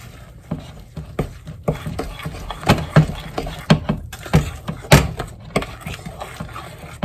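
A spoon stirring thick keto spice cake batter in a bowl, repeated close thumping and scraping strokes in an uneven rhythm, fairly loud throughout.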